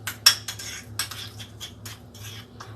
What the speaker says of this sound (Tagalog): hahaluin lang siya hanggang sa mag-combine together